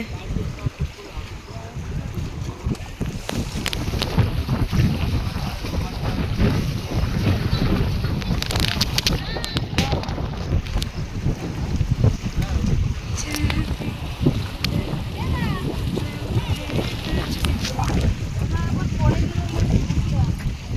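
Strong wind blows on a riverbank and buffets the microphone with a continuous loud, rough rumble for the whole stretch. People talk over it the entire time.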